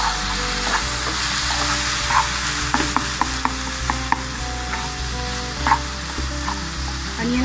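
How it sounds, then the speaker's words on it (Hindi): Onions and masala fry in a pan for chicken green masala, a steady close sizzle with scraping stir strokes and small clicks throughout, no talking. "हम इसको अच्छे से भूनेंगे, 20-10 मिनट हमें इसको भूनना है।"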